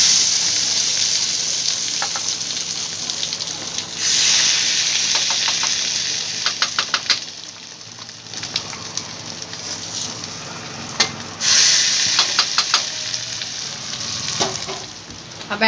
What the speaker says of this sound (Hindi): अब तड़के को हम ग्रेवी में डालेंगे।